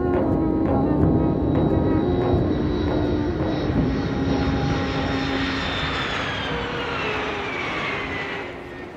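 A fixed-wing airplane's engines roar loudly and steadily throughout as the plane comes in to land, the drone slowly shifting in pitch and easing slightly in strength toward the end.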